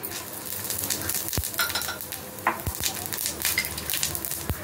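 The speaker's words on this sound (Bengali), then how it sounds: "তেলের মধ্যে দেবো আমি একটু গরম মশলা ফোড়ন গোটা, তারপরে দেবো একটা তেজপাতা, একটা গোটা লঙ্কা, দেবো কিছুটা গোটা জিরে" Whole garam masala, a bay leaf, a whole dried chili and cumin seeds sizzle and crackle steadily in hot oil, close and continuous with a few sharp pops and utensil clinks, under a quiet voice.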